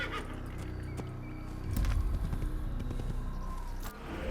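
A horse in the Assassin's Creed video game clip-clops along at a steady gait under game music and ambience, with a short snort or whinny partway through.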